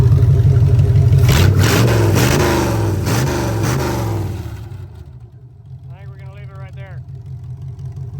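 A Chevrolet Nova's engine runs loud and close, revving hard through several throttle blips before settling to a steady lumpy idle, with a voice speaking over the idle.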